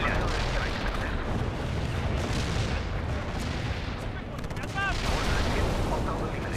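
An artillery barrage in the strategy game World in Conflict, a dense, continuous rumble of heavy booms and explosions that swells again near the end, with a radio-style voice speaking over it.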